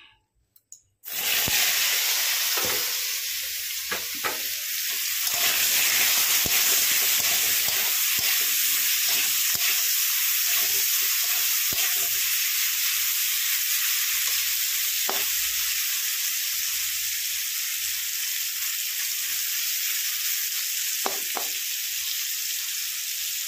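Vegetables are dropped into hot oil in a kadhai and fry with a loud, steady sizzle that runs throughout, dotted with sharp crackles and pops. No one speaks.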